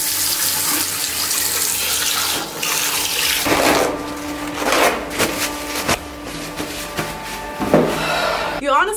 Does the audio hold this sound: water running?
yes